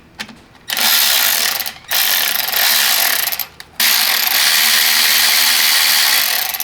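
A ratchet loosens engine mounting bolts on a car, loud and close, in three long runs of rapid clicking broken by short pauses.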